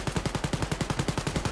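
A low-tier weapon fires in Wolfenstein Youngblood, a rapid, evenly paced burst of about a dozen close, punchy automatic shots with no talk.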